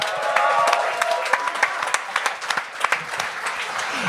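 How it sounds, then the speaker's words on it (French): An audience at a comedy show applauds, a dense burst of clapping that starts full and gradually thins into scattered individual claps. "On les applaudit!"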